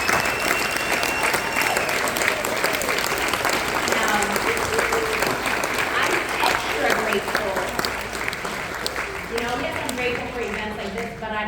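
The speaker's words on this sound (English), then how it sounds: "can we just give a round of applause to Senior Vice Presidents Michael and Patrick Mazer for hosting this" Sustained audience applause at a business summit, dense continuous clapping with scattered cheers and voices mixed in throughout.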